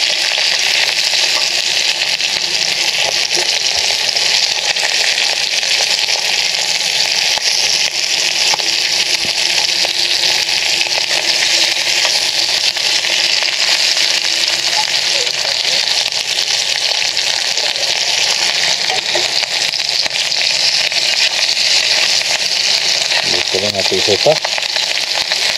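Dried tuyo fish frying in oil until crisp, giving a loud, dense, continuous sizzle and crackle that holds steady throughout, with no voices over it.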